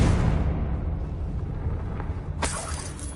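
A Confringo spell bursts in Hogwarts Legacy, a loud rumbling boom that decays slowly, followed by a sharp crackling blast with a shattering edge near the end.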